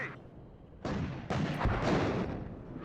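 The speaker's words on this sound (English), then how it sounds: "Not messing about with their artillery then." Artillery fire in the war strategy game WARNO: a few heavy booming impacts and rumbling blasts that build and overlap into a sustained, loud barrage, with the sound alone.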